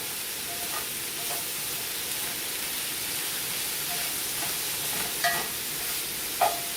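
Seasoning, with salt-free seasoning in place of Mrs. Dash, gets stirred into an unstuffed pepper casserole in a single pot, giving a steady soft scraping hiss with a couple of brief louder scrapes near the end and no voices.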